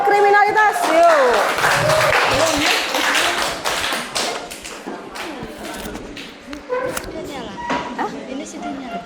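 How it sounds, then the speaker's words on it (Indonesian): Students in a classroom clap for a student group, a patter of hand claps and taps strongest in the first few seconds then thinning out, mixed with voices talking and calling out. "Kita berikan tepuk tangan untuk kelompok kriminalitas."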